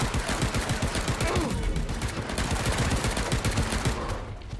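Dense, rapid gunfire from the video game Paint the Town Red, continuous loud bursts of automatic and shotgun fire throughout, with a voice briefly heard over the shooting.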